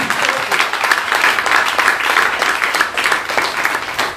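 A church congregation applauds to acclaim Jesus during a worship service, producing dense, sustained clapping from many hands that swells and carries on without a break, with faint voices mixed in.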